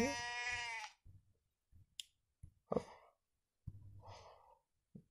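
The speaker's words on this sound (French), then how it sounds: "on prend un mouton" A sheep in the video game WorldBox gives one loud, wavering bleat at the start, followed by scattered soft clicks, taps and a breathy sigh-like sound in near silence.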